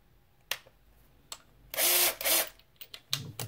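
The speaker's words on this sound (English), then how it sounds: "So I just take a normal drill." A power drill spins a gear of an RC10B6 radio-controlled car ball differential in two short bursts, close and loud, surrounded by quiet clicks and handling noises.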